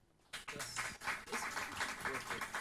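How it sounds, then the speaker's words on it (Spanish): An audience at a forum applauds, the clapping starting abruptly after a quiet moment and continuing faintly with some voices mixed in. "Pido un fuerte aplauso para él."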